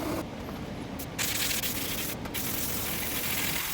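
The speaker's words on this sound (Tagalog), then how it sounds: "magamit ko dito sa spray gun ko. Ngayon ibubuga natin." A paint spray gun hisses as it airbrushes colour onto a helmet for cartoon art, a close, steady spray with short pauses as the trigger releases and presses again.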